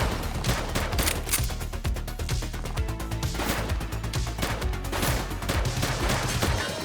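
Rapid bursts of gunfire from a shooting suspect during a police action game, dense and loud with sharp repeated shots and fusillade-like volleys throughout.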